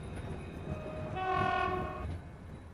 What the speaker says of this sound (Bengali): ট্রেনটা বেলপুর স্টেশনে এসে পৌঁছাল